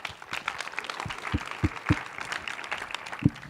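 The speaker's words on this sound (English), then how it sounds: "Let's make a big round of applause for." An audience at a talk event gives a round of applause: a soft, fairly distant wash of many hands clapping with a few sharper individual claps standing out, steady for a few seconds with no talking.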